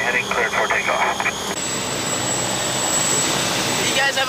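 A Gulfstream jet rolls for takeoff on a runway with a steady broadband engine roar and a high whine, loud and continuous, with a voice heard briefly at the start.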